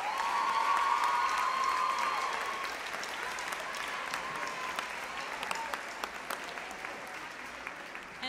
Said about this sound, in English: can we give her a great big round of applause?